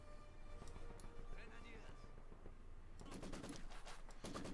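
A Maxim machine gun rattles in Company of Heroes 2, fairly faint under busy battle ambience, with rapid repeated bursts growing denser toward the end.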